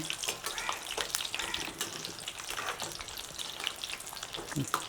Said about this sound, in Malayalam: ജസ്റ്റ് ഇങ്ങനെ ഒന്ന് തവിയിട്ടൊന്ന് ഇളക്കി കൊടുത്തു കഴിഞ്ഞാൽ എല്ലാ വശവും നമുക്ക് വഴറ്റിയെടുക്കാൻ പറ്റും